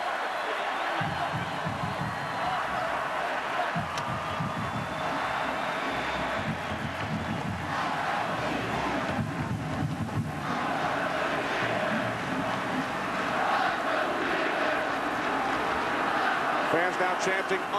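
Over 71,000 fans in a football stadium roar and chant 'undefeated' as a Utah drive ends, a broad, steady crowd wash with rising swells, while a play-by-play announcer talks over it.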